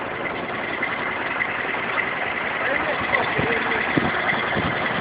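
A ZIL-130 truck's engine runs steady and loud nearby, with a heavy low rumble and a slight swell in intensity toward the end.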